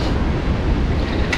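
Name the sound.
wind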